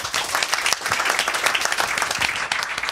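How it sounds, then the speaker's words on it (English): Sustained applause from an audience at a book celebration, dense steady clapping filling the whole moment without pause. "one more round of applause."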